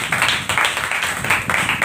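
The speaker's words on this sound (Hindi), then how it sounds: "जोरदार ताली बजाइए" A church congregation at a worship service claps together in a steady rhythmic beat, loud and close, with the claps landing about twice a second.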